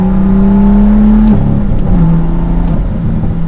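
A BMW M2 engine with a six-speed manual in Sport Plus mode revs loudly up through the gears, its pitch climbing then dropping at each shift with brief anti-lag-like crackles between, heard up close.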